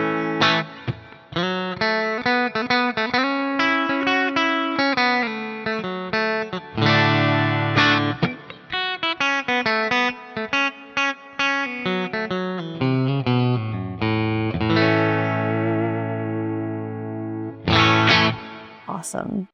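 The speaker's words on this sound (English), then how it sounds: "So let's hear the bridge, play something a little bit twangy." Kiesel offset electric guitar on the bridge pickup, played twangy with effects and some distortion; a busy run of bright picked notes and chords, close and loud, with no talking.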